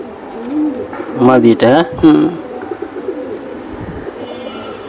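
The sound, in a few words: pigeons cooing, female Jhuma pigeon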